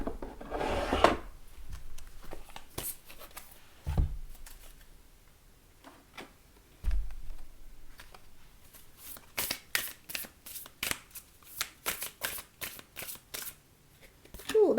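Oracle cards are shuffled by hand in quick, crisp bursts of riffling and rubbing, with a few soft thuds on a surface between, close and fairly quiet; a voice speaks briefly at times.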